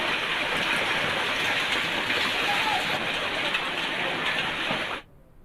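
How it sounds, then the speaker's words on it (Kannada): Heavy monsoon rain pours down in Karnataka's Kodagu region as a dense, loud, unbroken hiss that holds steady for about five seconds, then stops abruptly. "ಭಾಗಮಂಡಲ ಮತ್ತು ತಲಕಾವೇರಿಯಲ್ಲಿ ನಿರಂತರ ಮಳೆ ಆಗ್ತಿರುವ ಪರಿಣಾಮ"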